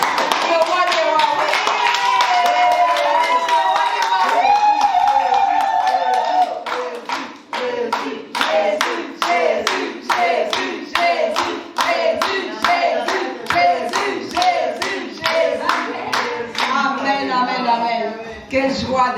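A church congregation at a Sunday worship service bursts into loud, sustained applause that starts dense and continuous, then breaks into rhythmic, evenly spaced group clapping. No one speaks over it.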